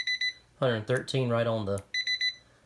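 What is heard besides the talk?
cooking timer alarm going off on a battery-powered lunchbox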